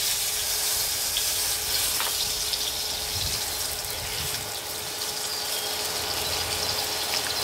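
Veal shank browns in a hot pan, a quiet continuous sizzle and crackle with faint bubbling, steady throughout with no talking.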